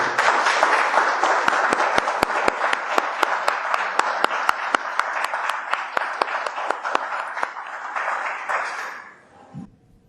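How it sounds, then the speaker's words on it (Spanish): An audience claps for an invited guest at a talk event, steady crowd applause with sharp individual claps standing out rhythmically, then fading abruptly to near silence at the end. "brindar un fuerte aplauso a nuestra invitada del día de hoy"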